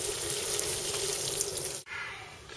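Tap water running to wet sphagnum moss for a planting pot: a steady close hiss and splash of flowing water that cuts off abruptly near the end, then resumes more softly.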